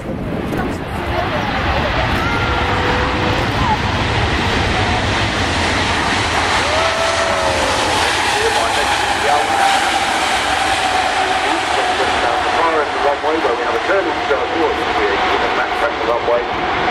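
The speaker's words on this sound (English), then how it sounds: "you wouldn't see a 380 that close to you airborne" An Airbus A380 airliner passes low during a flying display at the Farnborough airshow, a loud, steady roar of jet engines that fills the air throughout and does not let up.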